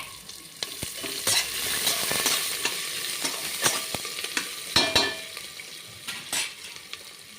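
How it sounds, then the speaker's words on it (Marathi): Chopped onions sautéing in a pan for a Khandeshi masala khichadi, a steady close sizzle broken by repeated scraping and knocking of a spoon stirring against the pan, with no talking. "आता याच्यात कांदे थोडे परतून घेते मी"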